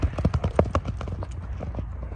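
Hooves of a Novokirghiz horse clip-clop in a quick running rhythm, close and steady, as the animal is exercised and readied for ulak, with no talking over it.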